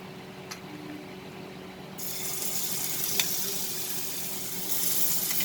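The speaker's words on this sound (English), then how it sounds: "now once the oil gets heated, we will add the chicken pieces" Chicken pieces drop into hot oil, and after a quiet moment a loud, steady sizzle bursts up and keeps crackling, with a few sharp pops and a small clink along the way.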